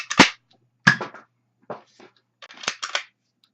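A Transformers Gunbot Alien toy blaster fires indoors, several light snapping shots with short pauses between them, close and fairly soft, with some quiet handling clicks.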